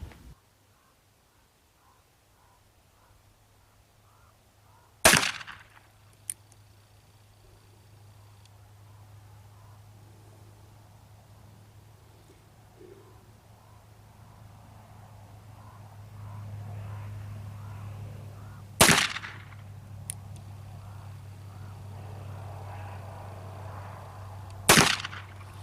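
Navy Remington percussion revolver fired outdoors after reloading: three sharp, loud single shots spaced several seconds apart, each with a short echo, over a low steady background hum.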